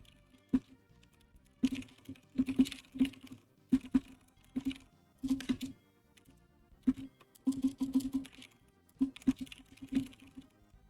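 Bursts of typing on a computer keyboard, the keys clicking in quick uneven runs separated by short pauses, close and fairly quiet with no talk.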